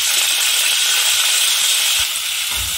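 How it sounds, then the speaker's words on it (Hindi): Chopped onion and bell pepper hitting a hot pan already cooking ginger and green chili, giving a steady loud hiss and sizzle that fills the whole moment without talk. "अब इसमें हम प्याज और शिमला मिर्च डाल"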